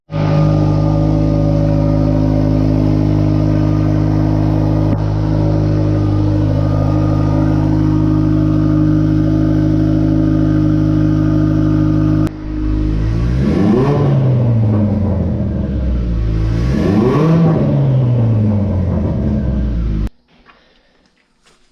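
Turbocharged Ford Focus SVT engine on a dyno, a loud steady high-rpm drone held for about twelve seconds, then two rising and falling revs before cutting off abruptly.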